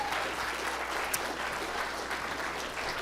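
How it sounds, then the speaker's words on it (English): A round of applause from an audience at a Shark Tank night in an entrepreneur leadership series, steady clapping heard fairly faint and slightly distant throughout. "let's give them another round of applause"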